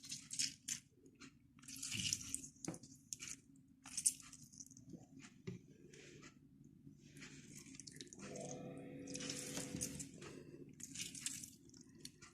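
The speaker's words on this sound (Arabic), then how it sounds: "هعصر بقى ايه ليمون" Lemon squeezed by hand over marinated fish: soft wet squishes and drips come in short bursts, close and quiet, with small kitchen handling noises between them.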